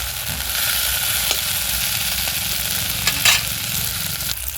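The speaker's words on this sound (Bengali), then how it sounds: "গিমে শাকটাকে ভালো করে ভেজে নেব" Gime greens (a bitter leafy green) frying in oil in a pan, a steady close sizzle throughout with a few light stirring scrapes and no voices.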